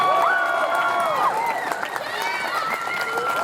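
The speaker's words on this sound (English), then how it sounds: "Clap, please." Crowd at an outdoor climate action rally claps and cheers, a steady mass of applause with whoops and shouted voices rising over it.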